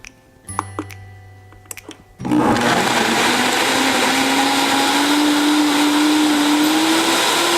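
A countertop blender making a smoothie starts after a few clicks and clunks, then roars loudly and steadily while its motor pitch climbs slowly.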